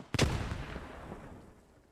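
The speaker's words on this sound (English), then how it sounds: "A very close grenade." A grenade explodes close by in the WWII shooter Post Scriptum, a sharp loud blast at the start followed by a rumbling decay and lingering battlefield noise, with no talking.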